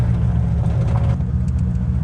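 An old barn-find hot rod's engine, freshly tuned with a new carburetor, runs with a steady low, rumbling drone on the road, loud and continuous without speech.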